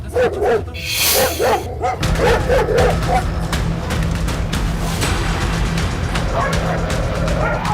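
Dogs bark loudly in a quick run of yaps, then the barking continues under a steady low hum.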